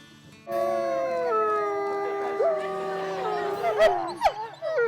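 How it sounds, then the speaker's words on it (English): Several long, overlapping howls rise and hold steady in chorus, with a few yips and wavering cries near the end. "Howls are the most widely studied aspect of wolf behavior"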